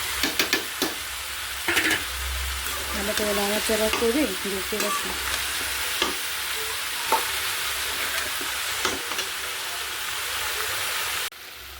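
White vegetable bhaji with green chillies fries in a pan, a loud continuous sizzle broken by repeated scraping stirs and clattering knocks of the spatula close by.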